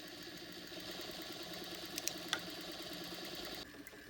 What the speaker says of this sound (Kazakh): Енді педальға басу көмегімен біз өзіміздің шпулькамызға қажетті көлемді жинаймыз.